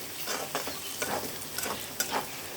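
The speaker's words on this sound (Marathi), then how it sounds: "बघा थोडा थोडा आपला बटाटा शिजायला आलाय" Diced potatoes frying and being stirred in a pan while making sabudana khichdi, with a soft steady sizzle under repeated scraping strokes of a spoon, fairly quiet and close, no talking.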